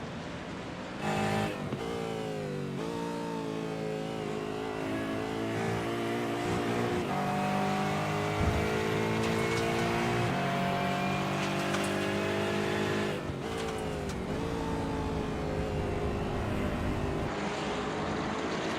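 Race cars in iRacing's 86 Challenge multi-class sim league at Watkins Glen roar throughout as close, loud engines rev and shift, with rising and falling pitch and no talk.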